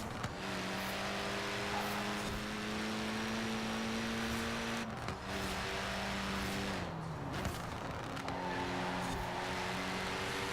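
A car engine drones steadily while driving in Forza Horizon 4, holding a tone that shifts in pitch as the gears change, loud and continuous with no talk over it.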